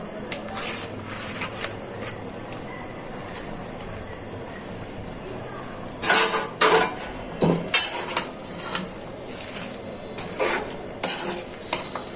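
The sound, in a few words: spinach stirred into cooked prawns in a sizzling pan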